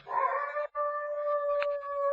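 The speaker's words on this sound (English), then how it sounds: "It's just some neighbor's dog." A neighbor's dog howls in one long, sustained, wavering tone that breaks off briefly and then carries on steadily at moderate volume, with no distinct barks heard.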